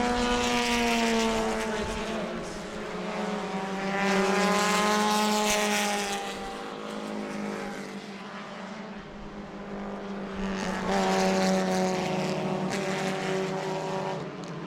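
Race cars at New Smyrna speedway roar around the track, engine drones rising and falling as packs of cars pass and recede in repeated waves, loud and unbroken with no talk.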